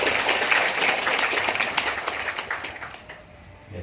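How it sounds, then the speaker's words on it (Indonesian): Applause from an audience at an Indonesian state Christian institute inauguration in Kupang, a dense wash of clapping that starts full and gradually thins and fades over a few seconds. "Boleh tepuk tangan ini."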